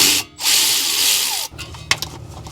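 A ratchet with a 10 millimeter socket works a sensor bolt on a Mazda CX-9 during front wheel bearing and brake work: a loud, rapid mechanical whir, then a pause and a few sharp metallic clicks.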